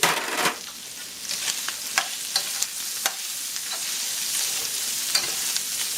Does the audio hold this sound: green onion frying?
yes